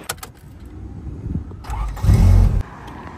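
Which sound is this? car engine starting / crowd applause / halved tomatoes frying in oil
car engine starting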